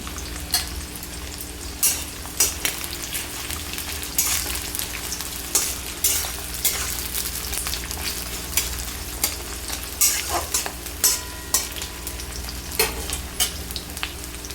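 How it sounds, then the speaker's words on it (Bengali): Onion pieces fry in a pan toward light browning for a jackfruit curry, a steady close sizzle broken by frequent sharp scrapes and clicks of stirring, with no talk. "পেঁয়াজগুলো হালকা একটু লাল করে ভেজে নেব।"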